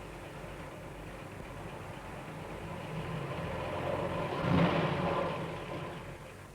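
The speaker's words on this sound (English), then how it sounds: "Jonathan drives his truck round to the bakery" A farmer's small truck drives along in a stop-motion children's farm scene, its engine humming faintly and steadily, swelling louder as it passes close and then easing away.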